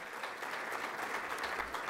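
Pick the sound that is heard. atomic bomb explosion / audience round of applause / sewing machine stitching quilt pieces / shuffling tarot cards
audience round of applause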